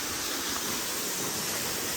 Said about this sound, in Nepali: झरनाको चिसो पानी